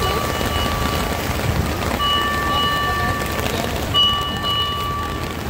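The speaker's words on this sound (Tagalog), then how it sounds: "Grabe, inuulan ako ngayon dito sa area." Steady rain falls outdoors in the area, a dense wash of hiss that stays even and fairly loud throughout, with faint tonal sounds in the background.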